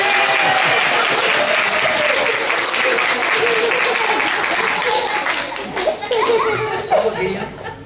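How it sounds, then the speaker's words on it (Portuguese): Sustained applause from an audience at a bookstore event fills the stretch, dense and steady, with children's voices and some laughter coming through as the clapping thins toward the end. "Palminhas para ele."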